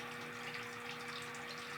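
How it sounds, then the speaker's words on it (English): Water runs steadily from a bathroom sink tap while a hair-clogged drain backs up, a constant close, even rushing flow with no speech. "flip the water on, and see the water immediately starts to back up in the drain"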